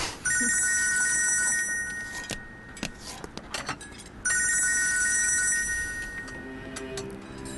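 An old-style telephone bell rings in two long trilling bursts, close by, with clinks and thuds of handling between the rings.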